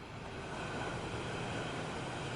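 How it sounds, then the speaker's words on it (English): A fast subway train rushing past underground, a loud, continuous, dense roar filling the whole moment with no voices. "A train suddenly passes by."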